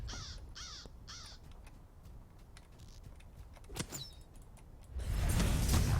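Crows caw in a video game set around orc camps. Three quick harsh caws come first, then sparse clicks and chirps, and a burst of broadband noise rises at the end.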